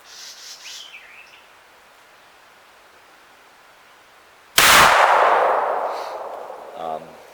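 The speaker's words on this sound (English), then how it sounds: "And then cock it back, switch it down, shoot the 410." A single sharp gunshot from the .410 shotgun barrel of a Savage 24 combination rifle, fired outdoors. The loud crack decays over about two seconds after a quiet lead-in with faint bird calls.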